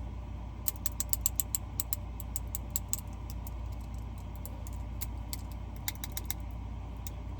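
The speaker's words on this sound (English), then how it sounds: "let's hear what the latch sounds like" A freshly lubricated balisong knife latch worked by hand gives rapid light ticks and clicks in irregular bursts over a low steady background hum, close and without speech.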